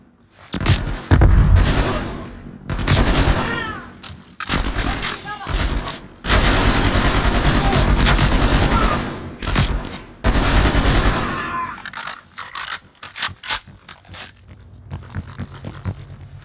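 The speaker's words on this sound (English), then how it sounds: "They're shooting at us!" Gunfire in Call of Duty Black Ops Cold War, bursts of rifle and automatic fire crackling in loud volleys with sharp cracks between, close and chaotic, tapering to scattered shots near the end.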